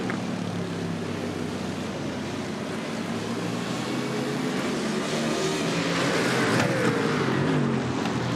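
BMW M4 GT3 race cars racing alongside a Mercedes-AMG GT3, a continuous loud engine roar that holds steady and swells slightly near the end as a car passes close.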